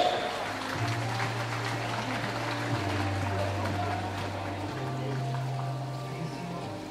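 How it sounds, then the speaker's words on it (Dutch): An indoor swimming pool crowd applauds the winner of a women's 200 m backstroke A-final. The clapping is distant and diffuse, mixed with hall reverberation and a low steady tonal hum. "En natuurlijk ons applaus!"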